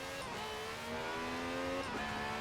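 A 1,000-horsepower race car engine in the driving game Forza Horizon 4 holds a steady, buzzing high-revving tone with slight pitch shifts, loud and close, with no talking.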